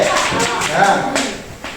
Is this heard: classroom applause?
yes